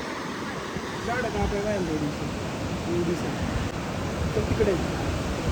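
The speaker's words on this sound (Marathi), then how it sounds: "धबधबा आहे कसला मस्त पैकी" Steady broadband rush of a waterfall near Baneshwar Temple, Pune fills the whole clip, with people talking over it.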